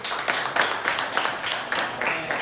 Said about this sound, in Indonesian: sekali lagi tepuk tangan buat kelompok 1